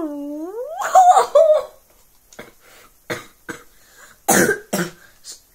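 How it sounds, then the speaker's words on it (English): A person with pollen allergies coughs several times up close during a football video game session, with a raspy throat-clearing start and a few sharp, separate bursts spread over several seconds. "sorry if you guys hear that cough."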